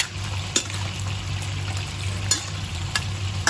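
Pakbet vegetables are stirred together with fried fish in a hot pan, a steady low sizzle and bubbling with occasional sharp scrapes and clinks of the utensil against the pan.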